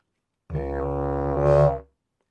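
A single droning didgeridoo note, buzzy and reedy, swells for a little over a second and brightens toward the end before stopping.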